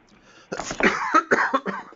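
A person with a cold coughs several times in quick bursts over about a second and a half, close and fairly loud, with a quiet lead-in before the first harsh cough.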